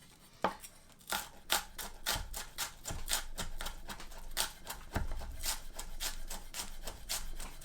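A knife finely dicing an onion on a cutting board, with rapid, steady chopping taps close by in a continuous rhythm and a few heavier knocks, no talking.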